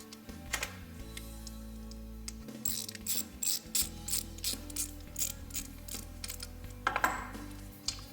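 Ratchet tightening bolts on an ATV starter during a rebuild in a shop, a series of quick clicking pawl bursts, close and fairly quiet, repeating in short strokes with brief pauses between.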